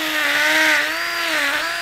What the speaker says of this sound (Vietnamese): bây giờ mình sẽ gắn cái mũi khoan bê tông vào cái trục này và khoan á